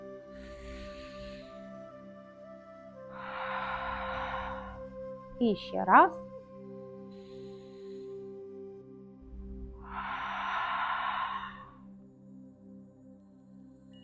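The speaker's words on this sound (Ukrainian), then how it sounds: "На видах відкриваємо рот і робимо видих з придиханням." Forceful open-mouthed exhalations during neck yoga come as two long, breathy whooshes several seconds apart, quiet and close. A brief voice is heard between them.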